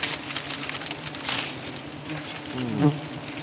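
Wild forest bees swarm a hive in the open, their dense, steady buzzing filling the air close by, with a brief louder swell near the end and no talk.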